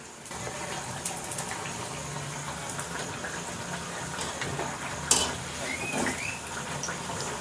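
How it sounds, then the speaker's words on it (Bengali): Bread chops frying in hot oil in a home village kitchen, a steady hiss and gentle bubbling sizzle that stays fairly constant, with a brief louder crackle partway through. "বেশ সুন্দর খরা খরা করে ভেজে নিচ্ছি"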